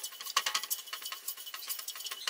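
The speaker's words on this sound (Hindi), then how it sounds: "हम सबसे पहले मेथी दाना डाल लेंगे और इसको भून लेंगे हल्का सा।" Fenugreek seeds being dry-roasted in a pan give off a quiet, irregular patter of small ticks and scrapes as they are stirred, close and soft with no talking.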